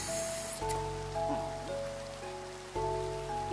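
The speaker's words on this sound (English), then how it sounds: "Yep, you're gonna rain on my crate." Rain falling in the Minecraft VR video game, a soft, steady hiss that runs the whole time beneath sustained electronic tones and a low hum, with no talking.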